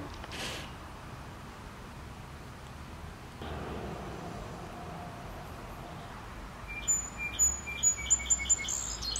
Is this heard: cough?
no